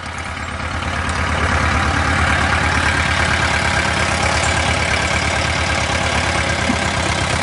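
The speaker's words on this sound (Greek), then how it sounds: "Τα δύο τρακτέρ." A Ford 4x4 tractor engine idles in Greece with a steady, close, low rumbling drone that holds even throughout.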